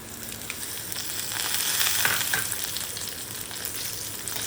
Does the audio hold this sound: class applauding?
no